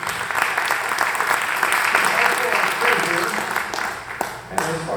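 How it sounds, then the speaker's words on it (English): An audience at a club's first-Friday meeting breaks into a sustained round of applause, dense clapping that fills the room evenly for several seconds, with some voices mixed in beneath it. "give her a big round of applause"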